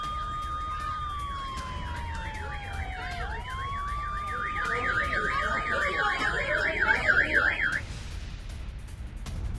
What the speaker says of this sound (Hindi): तेल अवीव में एयर रेड अलर्ट, सायरन लगातार बज रहे हैं।